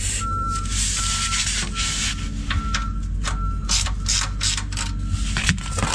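A shiny hand ratchet clicks while loosening the oil drain plug under a MKIV Toyota Supra, with a series of short, sharp metallic ticks over a steady low rumble close by.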